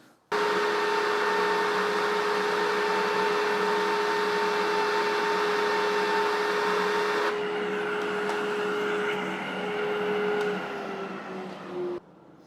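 A dust collection vacuum runs with a loud, steady whine that drops abruptly in pitch and loudness as its speed is turned down, holds at the lower level, then cuts off near the end.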